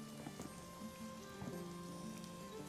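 Rain in RuneScape: Dragonwilds, a soft, steady patter of drops falling on surfaces under a faint continuous hum, quiet and even throughout with no talk.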